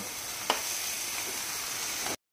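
Fried potatoes and spices stir-fry in a pan with a steady, hissing sizzle close up. One brief scrape of stirring is heard early on, then the sound cuts off abruptly.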